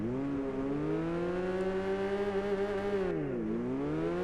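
Car engine in the Gran Turismo 6 racing game heard from outside the car, revving steadily with a rising whine that dips and climbs back, moderately loud, no talk.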